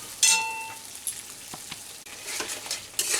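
Pointed gourd sautés with tomato ketchup in a vegetarian potol dish, a quiet steady sizzle with a few light stirring taps and scrapes across the pan.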